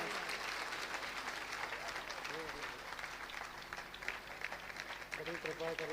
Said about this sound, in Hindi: अच्छी ताली बजा करके स्वागत करिए आज।